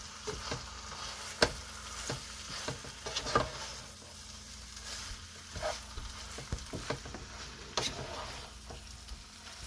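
Trini saltfish mixture stirred in a pot as it cooks, a soft sizzle under repeated sharp scrapes and knocks of a spoon against the pot, close and without any talk.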